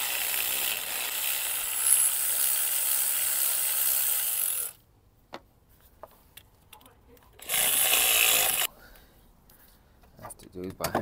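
A battery-powered tool works at Loctite-coated 8mm bolts on a Nissan Qashqai 1.2 during a timing chain replacement. It gives a loud, sustained whirring buzz, stops, then gives a second shorter burst, with quiet handling clicks in between.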